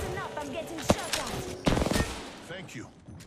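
Gunfire in Apex Legends: a single sharp shot followed by a rapid automatic burst, loud and close amid chaotic game effects, with a voice speaking underneath.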